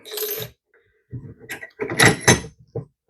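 A 45mm padlock is worked with a tension wrench and rake pick, giving short clicks and metallic scrapes in several bursts, with a louder rattle near the end as the lock pops open.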